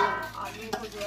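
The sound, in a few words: potatoes added to pan of vegetables, sizzling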